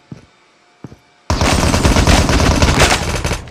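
Close, loud automatic gunfire in the mobile shooter Call of Duty Mobile erupts after two short thumps and keeps rattling in one sustained burst, with no talking.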